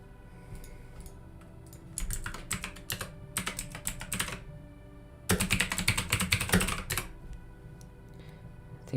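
Bursts of fast typing on a computer keyboard with green mechanical switches, close and crisp, clustering in two dense flurries separated by quieter pauses with scattered single keystrokes.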